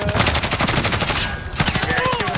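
Rapid automatic gunfire in the video game Call of Duty Warzone, loud and close, a sustained burst with a brief gap before a second run of shots.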